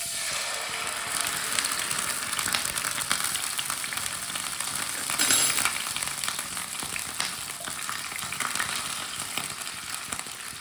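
Ground ginger frying in hot ghee in a pan, a steady dense sizzle that holds throughout with faint stirring scrapes and a brief swell partway through.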